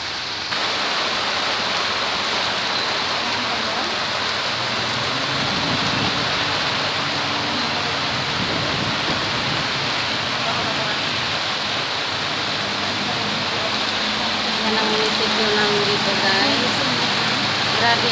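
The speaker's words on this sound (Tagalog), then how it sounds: "kaya lang malakas ng ulan" Heavy rain pours near a police station by the municipal hall, with flooding around it; a dense, steady roar of downpour fills the whole stretch without a break.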